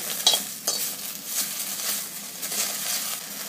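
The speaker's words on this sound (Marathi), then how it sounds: "आता थोडंसं तेल घालायचं आहे परतवून घ्यायचं आहे" Masala-stuffed roasted okra sautés in a little oil in a kadhai, giving a steady, close sizzle with scraping stir strokes and a few sharper utensil clinks near the start.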